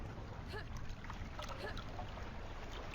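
A waterfall in the game Hedon: Bloodrite gives a constant, dense rush of falling water, a steady broadband roar with faint splashing textures that holds unchanged from start to end.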